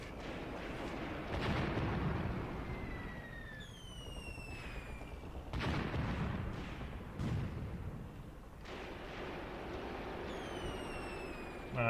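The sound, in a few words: Panzerbüchse anti-tank rifle firing at tank, Graviteam Tactics video game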